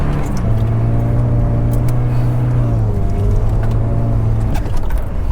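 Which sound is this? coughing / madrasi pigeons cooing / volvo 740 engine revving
volvo 740 engine revving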